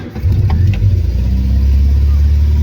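Triumph Spitfire engine on a test run, running steadily with a continuous mid-pitched drone close by, a faint voice briefly over it at the start.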